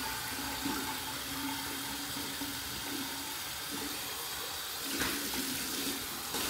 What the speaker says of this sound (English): One warm, one cold, right from the tap.